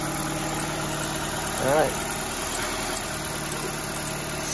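A 2005 Nissan Sentra with a replacement engine idles steadily after start-up, a constant mid-range hum throughout, with a brief louder swell near the middle and a short spoken word over it.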